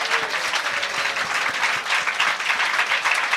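A church congregation clapping hands in praise, dense continuous applause with rhythmic claps, loud and close throughout, no speech rising above it.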